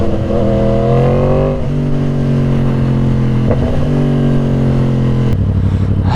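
A Yamaha R1 crossplane motorcycle engine revs hard while being ridden, a loud, close, continuous roar with rising and falling pitch as it shifts through gears, with no talking.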